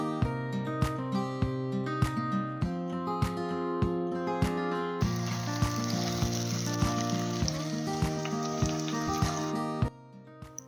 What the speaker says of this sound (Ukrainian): Цукіні тонко нарізую і обсмажую до м'якості.